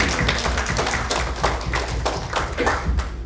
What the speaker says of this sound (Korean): 우리 큰 박수로 격려해 주시고